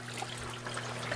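Water pumped through an e-Shine algae scrubber runs as a steady, soft trickle and splash with a low, constant hum underneath, quiet and continuous throughout.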